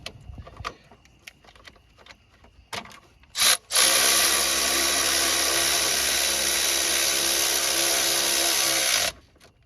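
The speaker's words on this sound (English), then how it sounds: "I'm going to tighten these two bolts up" Alternator bolts on a Chevrolet Colorado 2.8 are driven tight by a power tool: a few short knocks and clicks, then a loud, continuous whirring run of about five seconds that cuts off abruptly.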